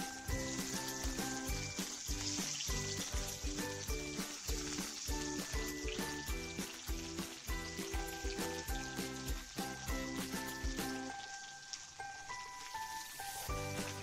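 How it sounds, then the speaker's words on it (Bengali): Singhi catfish frying in hot oil in a kadai, with a steady, loud sizzle and dense crackling spatter throughout, easing briefly near the end before resuming. "শিঙি মাছ ভাজতে গেলে একটু সাবধানতা অবলম্বন করতে হবে, কারণ এই ধরনের মাছ ভাজতে গেলে তেল খুব ছিটকোয়।"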